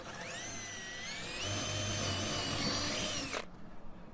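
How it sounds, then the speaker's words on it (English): A power drill whines at high pitch, rising as the bit bites into wood near its edge, running steadily for about three seconds before cutting off abruptly. "And I'm going to drill that"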